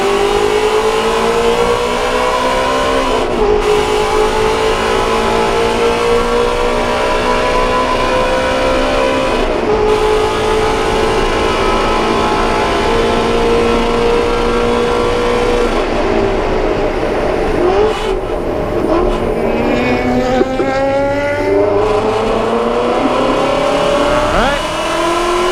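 A Ford Mustang GT350 accelerates hard around Circuit of the Americas, its engine heard loud from inside the car, climbing in pitch through repeated gear changes, with a brief dip before rising again.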